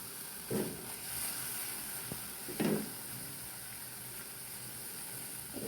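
Sour yogurt lightly frying in a pan gives a continuous close hiss and sizzle, with two brief swells where it is stirred.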